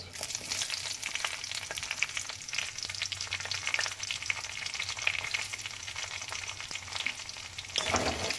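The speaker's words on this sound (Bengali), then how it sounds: "এবার দিয়ে দিলাম এতে পেঁয়াজ" Onions fry in hot oil in a pan, a constant crackling sizzle heard up close with light stirring scrapes and a brief louder flare near the end, no voices.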